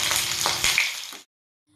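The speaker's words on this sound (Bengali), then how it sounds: "কড়াইয়ে ফোড়ন দিয়ে কড়াইয়ে দিয়ে দিতে হবে আলু" Potatoes sizzling and frying in a wok with tempering spices, a loud, steady crackle with a few stirring scrapes, cutting off abruptly near the end.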